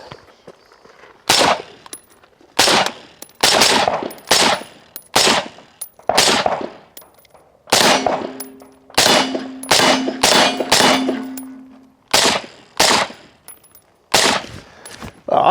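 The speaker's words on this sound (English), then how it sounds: "All right, so we're gonna shoot it a little bit faster now," A rifle fires rapidly through a Shadow Silencers Penta 556 suppressor, loud clustered shots in quick strings with short pauses between bursts and metallic pings after some rounds.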